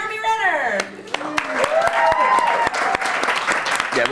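An audience at a film press conference claps steadily throughout, a dense patter of many hands, while several people talk and laugh loudly over it.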